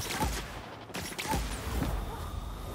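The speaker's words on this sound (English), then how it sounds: "These things shooting at me." Enemy gunfire in The Outer Worlds, several sharp bursts of shots ringing out amid ongoing game noise and a steady hum.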